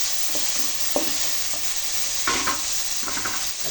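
Onion and aubergine base for a dry fish curry sautéing in a pan, a steady sizzle with a few scraping stirs of the spoon, near and fairly loud, no speech.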